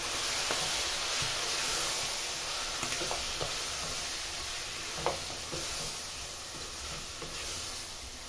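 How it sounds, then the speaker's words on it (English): Grated tomatoes and green pepper going into a pan of frying matumbo, giving a steady broad sizzle with scattered soft stirring clicks and small pops throughout, close and even. "So next I'm going to add the tomatoes, the grated tomatoes and green pepper."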